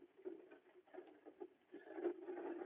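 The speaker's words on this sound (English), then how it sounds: "Now it's really raining, and I gotta get out this car." Rain patters on a parked car in a steady, close stream of soft irregular taps that swell louder toward the end, with no voices over it.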